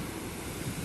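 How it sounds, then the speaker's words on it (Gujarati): Fast-flowing water rushes past in a steady, dense roar, a continuous broadband wash with some wind buffeting, heard alone without speech. "અને પાણી કેટલું સ્પીડમાં જાય છે જુઓ તમે"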